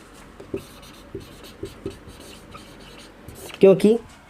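A pen scratches across paper while someone draws a graph line for a maths lesson, with soft intermittent strokes and a louder rubbing burst near the end, close by, alongside a speaking voice.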